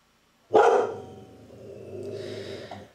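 A dog barks loudly and suddenly up close, one sharp burst followed by a lower, sustained rumbling growl-like tail that fades over a few seconds.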